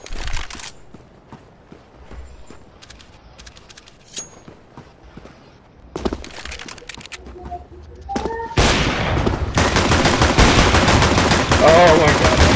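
CS:GO gunfire in a 1v1 match: scattered sharp shots early, then a sustained loud burst of rapid automatic fire in the last few seconds, with game sounds throughout.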